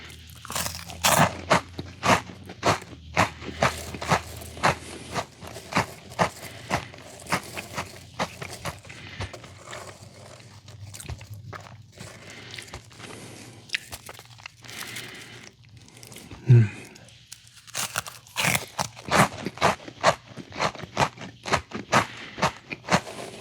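Chester Cheetos snacks crunched and chewed at close range, a long run of sharp, irregular crunches with brief pauses between bites.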